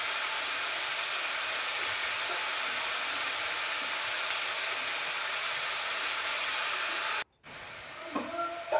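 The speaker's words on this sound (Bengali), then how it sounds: "আলুটা ভেজে নিচ্ছি।" Potatoes frying with the white stems of garlic leaves give a dense, even hissing sizzle that cuts off briefly, then resumes with a few clinks.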